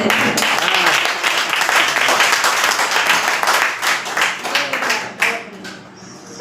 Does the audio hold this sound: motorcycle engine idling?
no